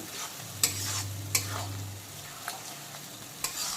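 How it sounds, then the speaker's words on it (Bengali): A paste of ginger, garlic, cumin and turmeric being stirred in a pan over low to medium flame, heard as a soft, low sizzle broken by a few sharp scrapes and taps of the spoon, close and quiet with no speech. "এখন আবারও বেশ কিছুক্ষণ পুরো মশলাটাকে ভালো করে মিক্সড করে নেব।"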